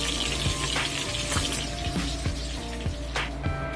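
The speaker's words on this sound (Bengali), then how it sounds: "মাছগুলো সব একে একে ভালো করে ভেজে নিচ্ছি।" Lailontika fish pieces fry one by one in hot oil, giving a soft continuous sizzle with small crackles and light clicks, close by and without talk.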